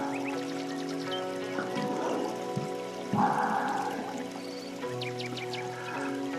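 Liquid being poured in a thin, steady trickle with small drips, fairly close and continuous for several seconds over a quiet background hum.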